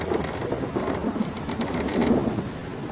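Cartoon storm with steady, dense rain and low rolling thunder that swells near the end, a continuous moderately loud wash with no voices.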